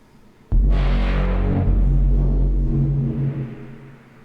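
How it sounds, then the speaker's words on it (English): A dry synth bass womp with no reverb: one loud, deep note hits abruptly with a bright, buzzy attack, then sustains for about three seconds as its upper tones mellow and fade out, with no voices. "I got this cool little bass on here"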